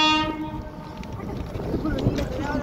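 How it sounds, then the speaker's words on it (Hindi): Train sounds its horn at the start, then rumbles past close by with a heavy rolling roar while people talk. "ट्रेन आ गई जल्दी"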